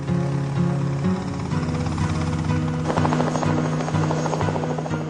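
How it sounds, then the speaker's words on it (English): A Longbow Apache attack helicopter thrums steadily and loudly, its rotor beat and turbine whine holding a constant, close drone throughout without any talking. "a new tool became available to commanders on the battlefield: the helicopter"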